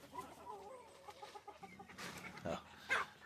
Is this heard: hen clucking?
yes